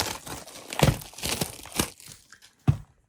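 Close crinkling and tearing of a plastic Pokémon card pack wrapper, several sharp crackly bursts in quick succession followed by a final snap.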